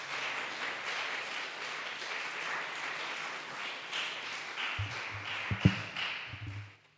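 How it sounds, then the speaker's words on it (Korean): A church congregation at a Sunday service applauds to welcome the pastor, a steady moderate clapping that runs for several seconds, with a few louder thumps and taps near the end as it tapers off. "우리 박수로 목사님 모시겠습니다."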